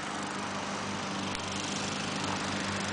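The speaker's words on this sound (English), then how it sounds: "And Dan is mowing again, so that's my cue to quit." Lawn mower running steadily nearby in a yard, a continuous droning engine hum with an even buzzy tone and no change in pitch, no voices.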